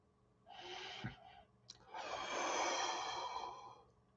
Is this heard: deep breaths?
yes